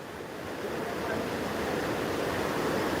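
Water rushes out under strong pressure where village women wash clothes and bedsheets during Dussehra, a loud, dense, continuous roar that holds steady and swells slightly throughout, with no talking.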